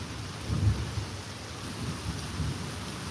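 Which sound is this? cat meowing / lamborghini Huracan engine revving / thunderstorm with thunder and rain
thunderstorm with thunder and rain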